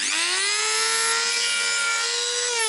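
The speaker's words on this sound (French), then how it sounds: "Donc maintenant, je mets un disque à meuler, oui, au bout de ça." An angle grinder fitted with a thick grinding disc works on metal for bicycle pedal-crank work, giving a loud, continuous high whine that holds steady throughout.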